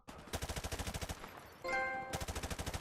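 Rapid automatic gunfire in Call of Duty 4, fast loud bursts of shots with a brief tonal game sound in the middle before the firing resumes, and no talking.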